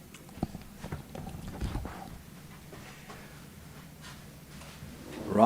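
Hooves of a harness racing horse at Scioto Downs clip-clop at a walking pace after a two-year-old colt trot, fairly faint and distant, with irregular knocks amid crowd ambience.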